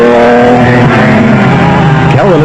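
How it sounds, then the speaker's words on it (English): Onboard a Castrol Toyota Land Cruiser off-road race car at the 2001 Caledon Off Road Race in South Africa, its engine droning loud and steady close up, pitch sweeping upward near the end as it revs. "On board with Reinecker and Houghton in the Castrol Toyota Land Cruiser."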